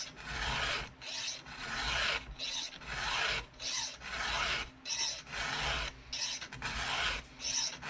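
A hand file rasps against a chainsaw chain in regular back-and-forth strokes, about a dozen even passes, close and loud with brief pauses between strokes.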